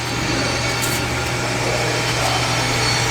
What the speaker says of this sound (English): we're going to move on to the buffer